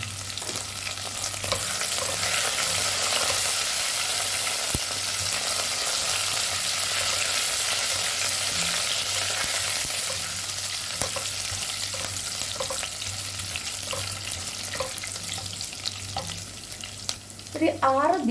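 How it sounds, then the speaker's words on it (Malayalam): Chopped ginger, green chillies and curry leaves fry in oil for Kerala-style rava upma, sending up a loud, dense, continuous sizzle with occasional stirring scrapes that eases slightly later on. "ഒരു 1/2 ടീസ്പൂൺ ചെറുതായി അരിഞ്ഞ ഇഞ്ചി നമുക്ക് ഇട്ട് കൊടുക്കാം"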